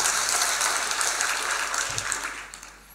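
Seminar audience applauding in a large hall, a dense, continuous roar of many clapping hands heard from a distance, fairly loud at first and gradually tapering off.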